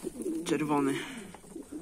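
Homing pigeons coo close by, one drawn-out rolling call standing out over softer ones, while a person says a word partway through.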